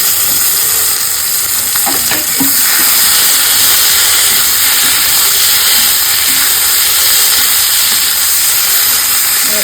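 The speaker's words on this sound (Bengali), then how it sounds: "তারপরে দিয়ে দিব টমেটো কুচি আর সঙ্গে ক্যাপসিকাম।" Chopped tomato and capsicum fry for soybean bhujiya, a loud, dense, continuous sizzle and hiss close to the pan, with a few brief stirring knocks early on and no talk.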